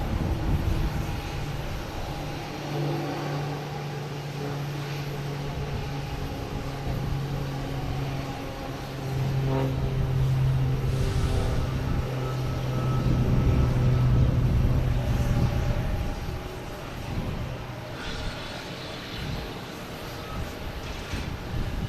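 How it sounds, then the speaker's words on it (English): A Cape Air propeller airplane bound for Nantucket runs its engine at Boston Logan Airport, a steady droning hum with a tonal whine that swells louder midway before easing off, heard from nearby. "Another Cape Air heading to Nantucket."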